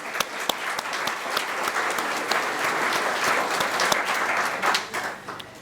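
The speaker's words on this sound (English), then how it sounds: "So a round of applause for Farm Bureau." Applause from a crowd at the dedication of a farm and heritage center for the local Farm Bureau, a steady dense clapping with a few sharp nearby claps standing out, sustained throughout.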